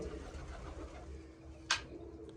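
Soft, low cooing of pigeons murmuring nearby over a quiet background, with one brief sharp rustle near the end.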